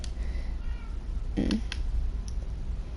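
A single cat meows in a Minecraft world, one short, close mew that rises out of a steady hiss of background game ambience, with no talk.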